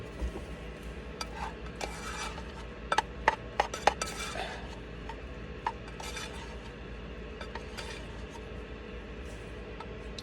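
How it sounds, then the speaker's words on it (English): Rice served with a spoon from a pot while cooking inside a capped truck bed, giving a few light scrapes and metallic clinks of utensil on cookware, quiet and close over a low steady background hum, with no talking. "So let me serve my rice"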